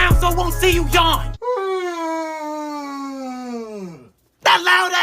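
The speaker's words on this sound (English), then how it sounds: "That loud ass yawn." A loud, drawn-out human yawn, rising then sliding down in a long moaning tone, with bursts of talk just before and after.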